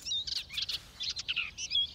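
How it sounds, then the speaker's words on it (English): Cartoon birds chirp and tweet in quick, bright bursts, several short calls in an uneven rhythm, fairly faint over a quiet background. "Sing now, birdie, sing this song."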